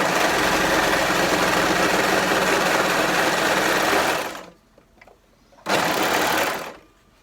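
A Singer Heavy Duty 14HD854 overlocker stitches at speed with a loud, fast mechanical whir, then stops, makes a brief faint noise, and runs again in one short burst before falling silent.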